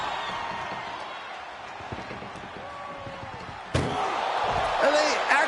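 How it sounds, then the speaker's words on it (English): A single heavy metal slam as an ambulance door is shut during a WWE wrestling video game ambulance match, sharp and close, breaking through steady background crowd noise and game sounds. "Trying to at least slam one door shut."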